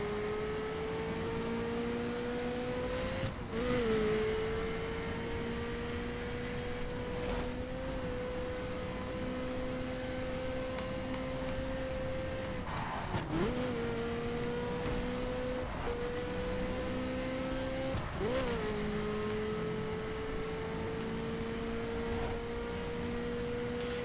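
A Ferrari F40 engine drones steadily through a road trip in The Crew, holding a sustained whining tone with a few brief dips and gear-change blips, and no talking.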